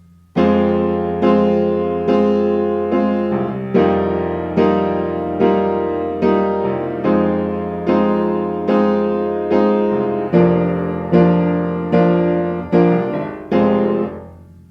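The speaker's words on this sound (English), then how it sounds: "The piano does not belong in that part." A solo piano plays the orchestral part from Les Misérables as a steady series of loud, full chords, each struck and left to ring and decay before the next, roughly one per second.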